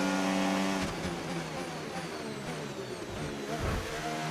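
F1 cars in the F1 25 racing game at the Australian Grand Prix scream past with high, whining engine tones that shift in pitch, a steady mid-loud roar of racing engines under game audio.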